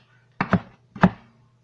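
A knife slices green onions for a Mexican cabbage salad, two quick pairs of crisp chops on a board, close and isolated in near silence.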